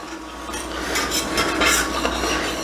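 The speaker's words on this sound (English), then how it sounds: "scrape up all those nice brown bits" A pan is deglazed with about half a cup of liquid while a utensil scrapes the browned bits off the bottom; rough scraping and stirring strokes rise and fall under a soft sizzle.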